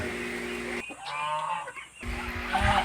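Geese and ducks on a farm, a few close honking and clucking calls over a steady background hum, with a brief quieter gap in the middle and no talking.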